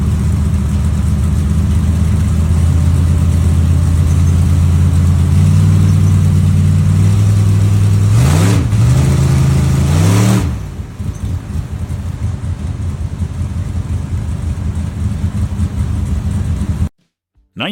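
A 1957 Chevrolet Bel Air pro street car's engine idles loudly with a deep rumble, builds in pitch through a couple of quick revs, then drops back to a rougher idle before cutting off abruptly.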